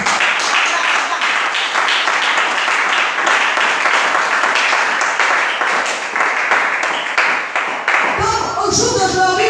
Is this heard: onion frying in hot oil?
no